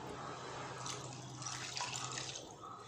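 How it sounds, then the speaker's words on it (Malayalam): Boiled kudampuli (Malabar tamarind) water poured into curry masala for a prawn curry, a soft, close liquid splash and trickle running steadily for a few seconds. "പിന്നെ നമുക്കിതിലേക്ക് കുടംപുളി തിളപ്പിച്ച് വെച്ച വെള്ളം ഒഴിച്ചു കൊടുക്കാം."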